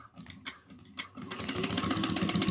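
A sewing machine topstitches across the top of a trick-or-treat bag, starting with a few short taps before settling into a steady, fast close-up whir.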